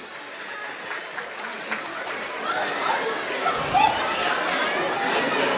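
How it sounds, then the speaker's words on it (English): Applause from a crowd at a Malayali association Christmas and New Year celebration, building gradually, with children's voices and chatter mixed in. "Give him a big round of applause, please."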